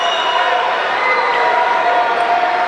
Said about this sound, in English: certainly an appreciative crowd here in the SMS Stadium